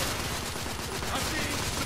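Gunfire in the video game The Order 1886, a dense continuous burst of rapid shots filling the short stretch, loud and close with no pause.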